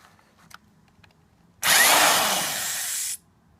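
A power drill drives a slightly larger screw into a small pre-drilled starter hole, one loud steady whir of about a second and a half that starts abruptly and stops cleanly after a few faint clicks.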